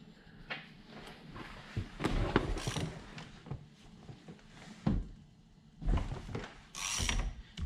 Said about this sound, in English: we're going to take a triple square that is 12, and we're going to loosen this bolt on the steering wheel